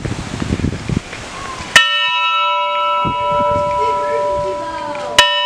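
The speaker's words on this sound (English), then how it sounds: "after I ring the bell" Two sharp strikes of a metal summer camp bell ring out, each leaving a long, clear shimmering tone that slowly fades, with faint voices in the background.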